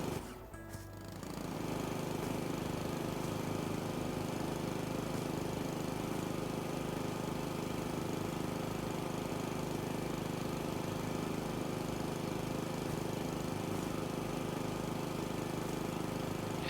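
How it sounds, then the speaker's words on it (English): A lawn mower engine running in a video game, a steady mid-pitched drone that starts after a brief burst of noise and continues evenly, loud and unbroken. "not just putting a lawnmower in and that's it"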